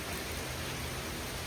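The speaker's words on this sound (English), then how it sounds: "It's starting to rain." Rain mixed with sleet falls steadily on a farm in winter, a constant wet hiss with no breaks, moderately loud and close, without any voices.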